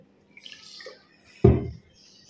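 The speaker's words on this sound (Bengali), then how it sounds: "একটু জল দিয়ে দেবো এর মধ্যে, বাটিতে নিলে ভালো লাগে জলটা দিয়ে বেশি খেতে" Water is poured into a bowl of panta bhat, soaked rice. Some soft faint clinks come first, then one short close splash of liquid that fades within half a second.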